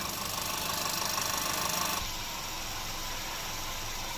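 An Audi A3 Cabriolet 1.2 TFSI CBZ petrol engine idling fresh after a timing chain replacement, a steady close-up mechanical hum that eases slightly partway through.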